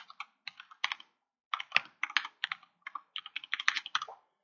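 Typing a commit message on a computer keyboard: quick, close, crisp key clicks in bursts with brief pauses, alone in a quiet room.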